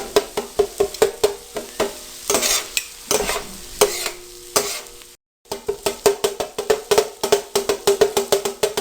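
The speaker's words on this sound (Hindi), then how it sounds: "आपने प्याज को अच्छी तरह से कुचल देना है।" Onions being crushed and stirred in oil on a hot tawa while making spicy tawa chicken, with a rapid run of loud scraping strokes over a continuous sizzle and one short pause.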